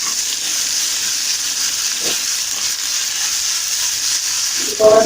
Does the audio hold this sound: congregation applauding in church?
no